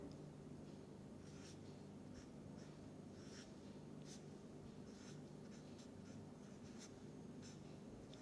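Pen or marker writing out the structure of acetone on a board or paper, faint scratchy strokes in short bursts over a steady low background hum, with no voices.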